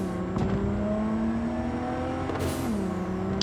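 A car driven in Cyberpunk 2077 hums along with a steady engine drone and tonal whine, shifting pitch as it accelerates, with a couple of brief whooshes passing by.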